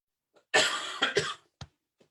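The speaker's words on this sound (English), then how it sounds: "this cough is killing me" A person coughs nearby, one long harsh rasping cough breaking into a couple of follow-up hacks, then a short quiet catch at the end.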